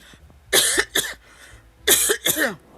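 Two pairs of sharp, close coughs separated by a short pause, each burst harsh and loud against a quiet background.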